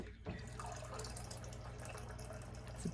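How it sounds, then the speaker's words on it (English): Water running from a tap into a drink, a quiet steady trickle with faint splashing, recorded close but at low level beneath soft background hum. "I'm gonna throw a little bit of water in there."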